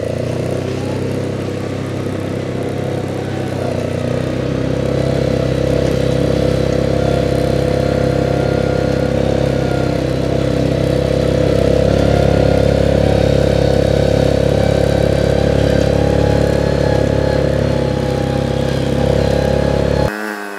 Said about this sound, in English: this quad is not fast. It's designed for slow speeds and heavy hauling.